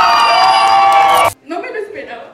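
Guests at a quinceañera party shout together in a loud, sustained group yell, cut off abruptly, followed by quieter mixed voices and chatter.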